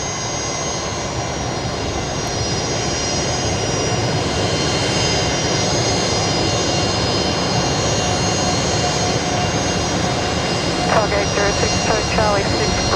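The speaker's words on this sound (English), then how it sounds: "Might turn around and grab the inbound Jetstar coming in" A Jetstar jet airliner inbound from Canberra lands on runway 19 right at Brisbane Airport at night, a steady loud engine roar that fills the whole stretch while people talk over it.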